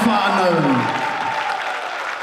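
Crowd at a secondary schools national basketball championship cheering and applauding for the winning boys' team, a loud burst of clapping and shouts from the arena stands that slowly eases off.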